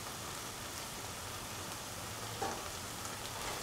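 Curry leaves sizzle in a hot pan of tomato paste, a soft steady frying hiss that runs evenly throughout, fairly quiet, with one brief spatter near the middle.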